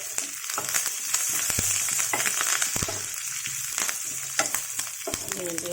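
Oil sizzling hard as a tempering is added for a bottle gourd chutney with sesame and curry leaves, a loud continuous frying hiss broken by sharp crackles and pops close by.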